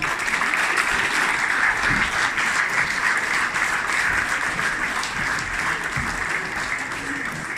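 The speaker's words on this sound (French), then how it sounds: "il faut les applaudir" Steady applause from a large crowd, a dense wash of clapping that holds evenly throughout without pause.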